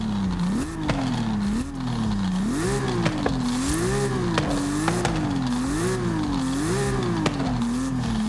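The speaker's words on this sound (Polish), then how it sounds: "muszę przyznać, że ten po swapie brzmi fantastycznie" A Toyota GR86 with a swapped engine revs loudly and repeatedly in Forza Horizon 5, its pitch rising and falling in steady waves as the engine climbs and drops through the revs, with faint tire squeal in the background.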